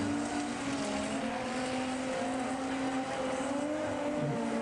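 A car doing a tire burnout shreds its rubber, a steady engine drone held at high revs with a whining tone, heard at some distance and fairly faint throughout.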